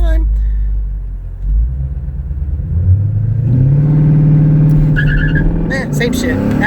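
A 2015 Ford Mustang with a 6R80 automatic and E85 tune, held on the foot brake for a launch, idles low before its engine rises into a loud, sustained rev, with a brief squeal near the end.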